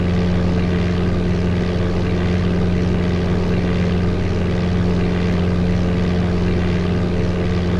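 A simulated light aircraft engine in Flight Simulator 95, flying on autopilot at about 5,000 feet, gives off a loud, steady, unbroken propeller drone throughout.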